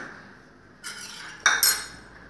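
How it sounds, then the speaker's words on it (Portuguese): A metal spoon clinks against a bowl while baking powder is stirred into vanilla cake batter, a few sharp close taps and scrapes after a quiet start, with no talking. "O fermento a gente tem que mexer"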